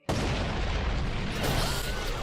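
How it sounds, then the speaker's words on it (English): An explosion by the gate in the dubbed anime UQ Holder erupts suddenly as a loud, dense roar that stays sustained and rumbling for about two seconds, with no voices over it. "An explosion? It's by the gate!"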